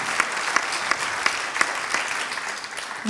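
Audience applause at a conference on the COP 21 climate summit, steady clapping with a few sharper claps standing out, close and sustained.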